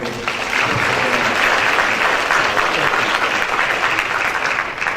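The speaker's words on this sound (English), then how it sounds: "let's give the middle school a round of applause" Loud, sustained audience applause at a school governance council meeting, a dense wash of clapping from a crowd that continues without a break.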